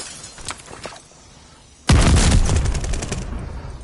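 Video game gunfire: a few faint shots first, then a sudden loud burst of rapid shots with crackling impacts that gradually fade, no talk.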